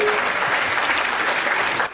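An audience at a Hindi comic poetry gathering applauds, giving a brief, unbroken burst of crowd clapping that holds steady and loud before cutting off abruptly at the end.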